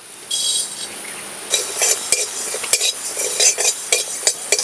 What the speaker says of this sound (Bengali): গোটা ধনে জিরে শুকনো খোলায় ভেজে নেব।